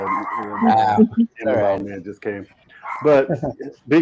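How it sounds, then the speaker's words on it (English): A dog barks a few times at the edges of ongoing conversation, the barks mixed in with and partly masked by a voice indoors. "excuse my dog"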